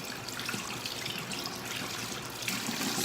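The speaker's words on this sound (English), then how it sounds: "run it under the hot water" Hot water runs from a tap onto a washcloth, a steady close trickling and splashing stream that keeps going without pause.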